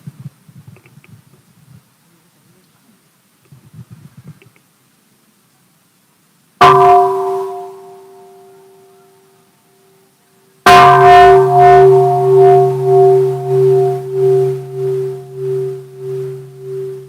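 A mindfulness bell at a day of practice is struck once and then a second time, each stroke a loud, clear metallic onset with a long humming tone that slowly decays, following a few seconds of faint, quiet speech.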